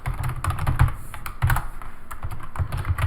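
Clicky, uneven bursts of keystrokes on a computer keyboard while Python code comments are being written, close and fairly loud, with short pauses between flurries and no talking.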